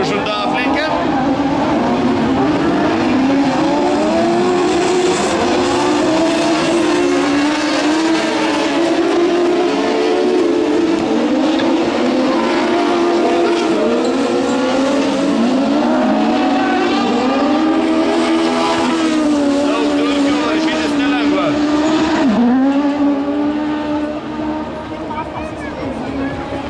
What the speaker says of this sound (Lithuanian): Sauliui kol kas pavyko aplenkti vieną varžovą, Kevin Westerkamp, 121 numerį.